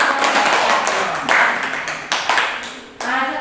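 A classroom group applauds after a student presentation in a school teaching session, brisk uneven clapping with a few sharp individual claps standing out and small pauses between bursts.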